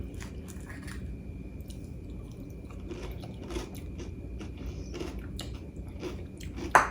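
Someone chews fried ice cream with a crisp coating, soft crunches and wet squishy bites close to the mouth, quiet and irregular, with a sharper crunch near the end.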